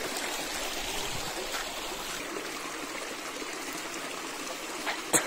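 A river flows steadily during a crossing, a constant close wash of running water from start to finish, with a brief splash or knock at the very end.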